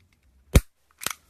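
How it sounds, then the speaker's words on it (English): Two sharp cracks from a century-old French 8mm squeeze-fired palm pistol, the first loud and punchy, the second weaker, about half a second apart in a quiet room. "So you have to squeeze it to fire it."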